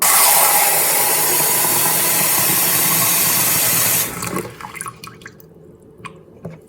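Water pours into a measuring cup in a continuous splashing rush for about four seconds, then stops, followed by a few faint drips and small knocks.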